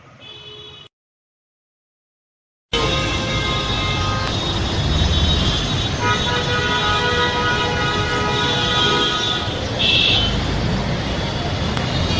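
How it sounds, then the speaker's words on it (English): Dense, loud roadway din at a traffic jam, a continuous wash of idling engines and rolling vehicles with horn-like tones rising here and there, after a short quieter lead-in and brief gap. "sound produced at the site of the traffic jam"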